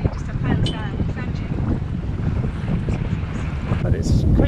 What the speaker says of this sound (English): But it's quite windy today,